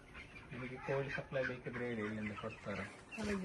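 Chickens cluck and squawk continuously at close range on a poultry farm, a busy flock noise with voices talking over it.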